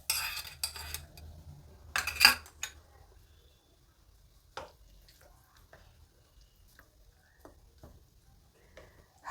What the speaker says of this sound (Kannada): ಈಗ ಒಗ್ಗರಣೆನ ಹಿಟ್ಟಲ್ಲಿ ಸೇರಿಸ್ತಾ ಇದ್ದೀನಿ